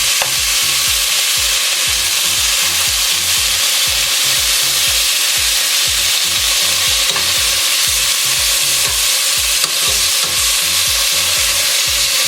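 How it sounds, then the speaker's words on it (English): Jamaican oxtail pieces searing and being turned in a hot pan, a loud, continuous sizzle with steady, rhythmic scraping from stirring throughout. "we're going to turn those over. You see you get that little sear going on?"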